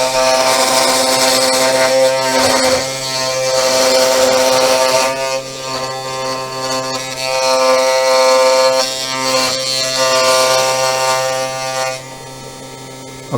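A Sainsmart Genmitsu 4040 Pro CNC machine cuts another millimetre deeper in a jig-and-pin job with a loud, close, harmonic-rich whine. The pitch and intensity rise and dip in waves as the cutter moves, then the sound drops off near the end.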